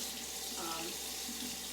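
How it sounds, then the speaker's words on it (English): Running water from a sink tap pours in a steady broadband wash as an object made in a polymer lab is held under the stream, faint and continuous throughout. "I'm going to put it under running water and see if I can kind of shape it"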